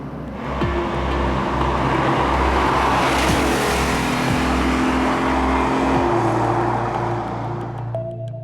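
A 1974 Lamborghini Urraco's engine revs loud and close for the whole stretch, a dense steady roar with rising and falling pitch as the throttle is worked, easing toward the end.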